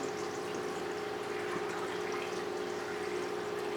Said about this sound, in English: Hope you can see the water flowing out.